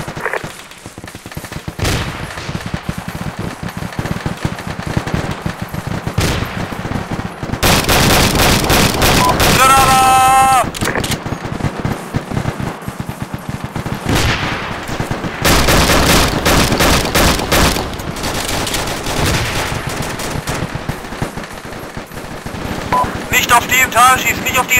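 Sustained barrage of automatic gunfire in the military shooter ArmA 2, with long dense bursts of machine-gun fire and scattered single shots under wind noise, loud and continuous through most of the stretch, with voices calling out over it.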